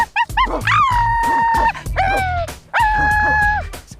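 A person imitates a dog howling during a swimsuit photo shoot, giving a few short yips and then two long, sustained, wavering howls, close and loud, with brief gaps between them.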